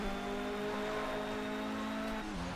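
Bentley Speed 8 race car in Project CARS at full throttle, its engine holding a loud, steady, harmonic drone that dips slightly in pitch near the end.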